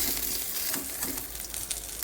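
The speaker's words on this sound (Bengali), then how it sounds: "তখন মাছটা ভাজা হোক।" Koi fish frying in hot oil in a pan while cooking a potato and koi fish curry, a steady, close crackling sizzle with occasional louder spits and pops.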